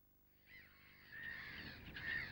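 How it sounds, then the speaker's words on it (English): Black-headed gulls give harsh, grating calls, two or three drawn-out rasping cries rising in loudness over a quiet outdoor background, with no voices. "The grating calls of black-headed gulls can be heard in all sorts of habitats"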